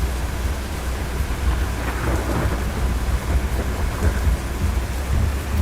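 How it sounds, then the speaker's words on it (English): A storm with thunder and rain, heard outdoors during tornado chasing. Continuous rainfall hisses loudly while low thunder rolls and rumbles beneath it without pause, with no voices. "Although I hear a storm set."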